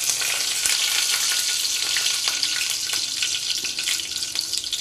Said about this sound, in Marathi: त्याच्यामध्ये आपण आता कढीपत्ता टाकून घेऊयात।